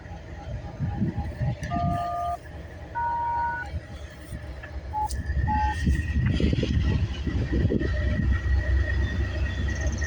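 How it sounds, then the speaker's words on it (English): CN westbound intermodal freight train rolling down the line, a growing low rumble and clatter with short tonal horn or signal beeps early on, heard under voices. "we got a CN westbound intermodal train coming down the line"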